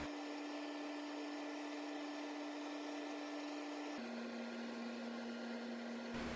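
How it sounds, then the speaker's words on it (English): A wood lathe runs steadily with a constant motor hum and whir, its pitch stepping down slightly partway through, while intrinsic honey-colored dye is applied to the spinning wooden piece; no one speaks. "I'm putting that on with the lathe turned on."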